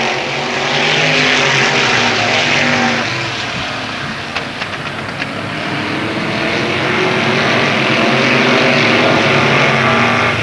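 Race cars roar around the Avilla Motor Speedway on the final lap of the 1995 season opener, a loud, sustained engine drone that dips slightly mid-way and swells again, with no voices.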